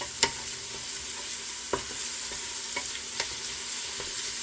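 Garlic cloves are stirred in a pan for sauce, with a soft steady sizzle underneath and a few sharp scrapes and taps of a utensil against the pan.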